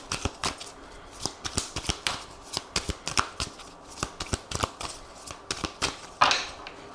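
Aphrodite oracle cards are shuffled by hand close by, a steady run of crisp riffling slaps and flutters that repeat roughly every half second, with no talking.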